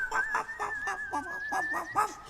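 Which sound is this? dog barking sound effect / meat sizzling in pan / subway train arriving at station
dog barking sound effect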